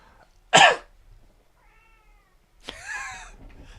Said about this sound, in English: Did you guys hear that? That was my cat.